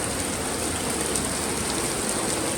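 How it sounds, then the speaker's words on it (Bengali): Heavy rain pours down outdoors, a loud, dense, unbroken hiss of drops hitting surfaces, continuous and close with no other sounds. "তো প্রচুর বৃষ্টি, প্রচণ্ড বৃষ্টি।"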